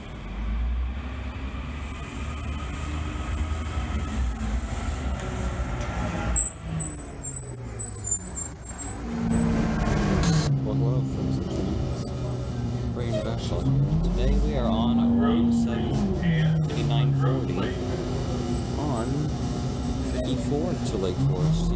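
Steady drone of an Orion VII CNG transit bus heard from inside while riding on a route, engine rising and falling with gear changes, plus a brief hiss like an air release; there is no speech.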